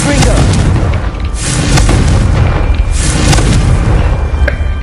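Booming spell blasts from the Confringo fire charm in Hogwarts Legacy, a loud, dense rumble that swells and recurs across the stretch with sharp bursts, alongside faint game ambience and occasional talk.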